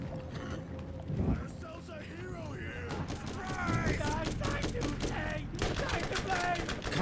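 Scattered gunshots from the Borderlands video game crackle in short bursts, mixed with game effects while people talk over much of it.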